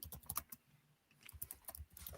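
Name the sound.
typing on a computer keyboard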